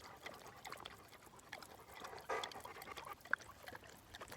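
Water pours for a thirsty dog to drink, a faint, soft trickle and splash with a brief fuller gush partway through, heard at low level amid quiet room noise.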